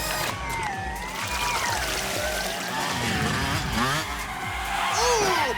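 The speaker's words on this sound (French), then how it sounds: "Le kart blanc Albacorp est en train de doubler." Cartoon go-karts race and overtake one another, with engines buzzing and shifting pitch, tires squealing and skidding, and a busy, loud mix of motor whines overlapping throughout.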